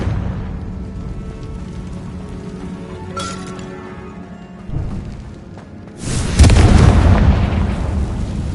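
A Confringo fire spell in Hogwarts Legacy goes off with a sudden loud burst and crackling blast that follows a quieter stretch of game ambience with a small clink and a thud.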